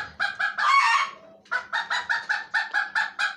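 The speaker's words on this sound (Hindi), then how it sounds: "ये अपना इधर भी मुर्गी है" A chicken in a bird-breeding aviary clucks in a quick series of close, fairly loud calls. A longer squawking call comes first, then a steady run of short, evenly spaced clucks.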